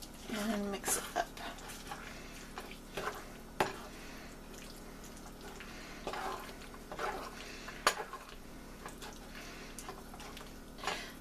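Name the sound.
stirring vegetarian pot pie filling with parsley in a pot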